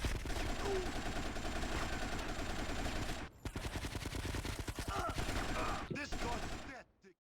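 Rapid gunfire from a gun in GTA: Vice City Stories, dense bursts of fast repeated shots in long strings, briefly pausing midway then resuming before cutting off near the end.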